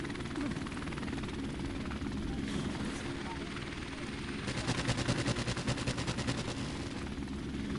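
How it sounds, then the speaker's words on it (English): A helicopter in Call of Duty: Modern Warfare Remastered drones with a steady rotor thrum throughout, joined partway by bursts of rapid gunfire layered over the engine noise, with talk over it. "Helicopter inbound."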